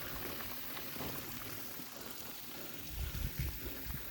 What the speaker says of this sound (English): The creek actually flows through this bridge.